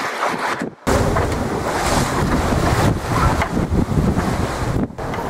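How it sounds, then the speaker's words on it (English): Strong 25-knot wind roars steadily across the microphone aboard a sailing yacht in Croatia, with a broad rushing wash of pouring rain and spray, loud and continuous with only a brief lull. "With the wind at 25 knots and pouring with rain"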